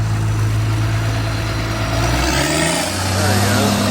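A tractor engine with an exhaust leak runs close and steady, its low idle drone holding throughout with a slight drop in pitch partway through.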